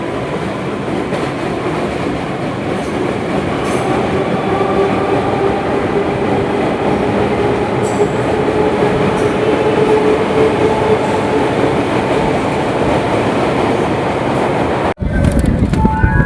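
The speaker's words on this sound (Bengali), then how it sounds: "ঠিক যখন ফুট ব্রিজটা পার হচ্ছি ঠিক তখনই একটা ট্রেন চলে এলো" A train rolls past close to the Kalinarayanpur Junction footbridge with a loud, sustained rumble and rattle of wheels and cars, then cuts off abruptly near the end.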